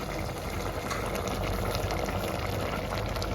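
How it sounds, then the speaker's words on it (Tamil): Liquid bubbles and churns at a steady rolling boil in a cooking pot of fenugreek-leaf kootu, a continuous low, busy rumble without any voices. "நல்லா கொதிக்குது பாருங்க."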